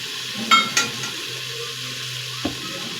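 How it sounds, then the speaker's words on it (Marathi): Chopped carrot, potato and drumstick pieces for sambar being stirred in a pan: a couple of sharp clinks of a spoon against the vessel, then a soft low rustle and one more tap, close and quiet. "आता हे सर्व भाज्या आहेत त्या आपण हलवून मिक्स करून घेऊया"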